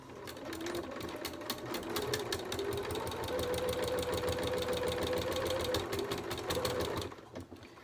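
A sewing machine with a walking foot stitches a home upholstery cushion back, a continuous close, even motor hum with rapid regular needle ticking for about seven seconds before it stops.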